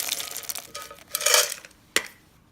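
Freeze-dried blueberries dumped into a container, a close rattling patter of light, hard pieces landing in bursts, a louder cascade in the middle and a sharp clack near the end.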